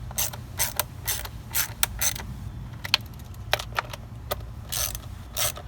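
Valve cover bolts on a 2011-2018 Chevy Cruze are snugged down in a star pattern with a ratchet, giving quick bursts of close, crisp clicking separated by short pauses.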